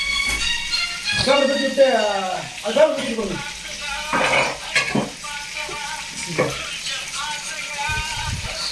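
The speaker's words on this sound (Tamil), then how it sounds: "அனுவர் பாய் கிண்டு கிண்டுக்கிட்டு இருக்காரு" Chicken frying in a pan is stirred, a steady sizzle carrying scraping strokes of the spoon, close and fairly loud, while a person talks over most of it.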